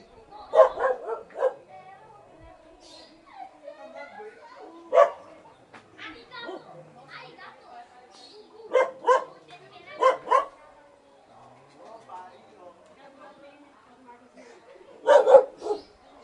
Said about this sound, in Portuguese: É o cachorrinho.